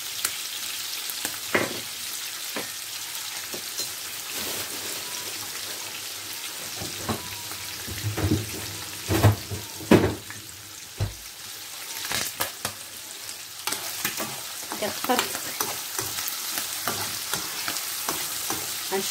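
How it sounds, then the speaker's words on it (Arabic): Chicken liver fries in a pan with parsley, coriander and raisins, giving a steady close sizzle broken by the scrape and clack of stirring, with no talk. "غنشحرهم مزيان"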